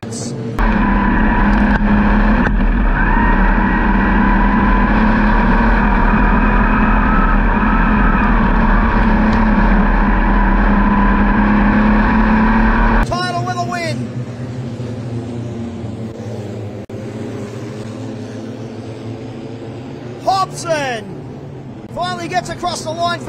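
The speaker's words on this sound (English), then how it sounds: "One lap to run, 400 metres on the clayway for Bailey Goodwin" Wingless sprint cars race on a 400-metre clay speedway with a loud, continuous engine drone. The sound then drops to a fainter roar as cars pass, with brief whines, while a commentator talks throughout.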